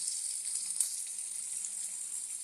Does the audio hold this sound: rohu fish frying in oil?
yes